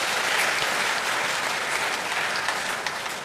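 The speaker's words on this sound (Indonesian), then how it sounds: "Tepuk tangan untuk mereka" A church congregation at a Christmas Eve vigil Mass applauds the choir, a steady, even wash of many hands clapping that fills the space and tapers slightly toward the end, with no voices standing out.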